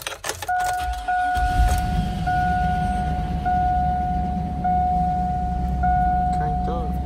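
A car at an insurance auto auction yard cranks and fires, then settles into a steady, close engine idle with a sustained electronic chime tone ringing over it.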